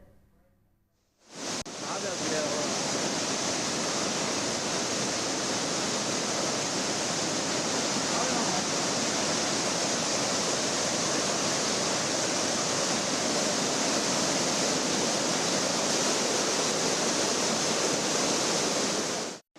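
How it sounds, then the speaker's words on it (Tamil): Water from a waterfall pours violently over a nearby bridge during heavy rain, a loud, steady roaring rush that starts abruptly and fills the whole stretch without pause. "அருவியை ஒட்டியுள்ள பாலத்தை தாண்டி தண்ணீர் ஆக்ரோஷமாக விழுந்தது"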